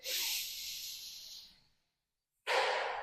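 A long, breathy inhale during a gentle floor exercise routine, fading out into a brief silence before another strong breath begins abruptly, close to the microphone with no speech.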